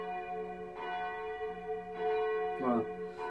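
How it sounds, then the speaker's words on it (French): A church bell rings nearby, with a sustained tone and two or three fresh strikes that swell over the lingering hum. "la cloche, elle m'agace, elle m'agace. Je suis en train de faire une vidéo et elle sonne"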